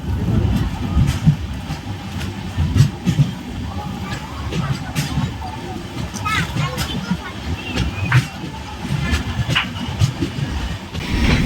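The Cholan Express passenger train runs on its rails, a continuous rumbling rattle with irregular clanks and knocks from the carriages, heard from on board, with occasional voices mixed into the steady motion noise.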